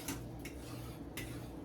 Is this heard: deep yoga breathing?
no